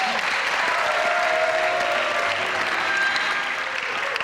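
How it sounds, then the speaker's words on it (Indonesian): A TV show studio audience applauds a guest named Cino, a continuous even clapping crowd at moderate volume with faint background tones, no talk over it. "tepuk tangan dulu buat Cino"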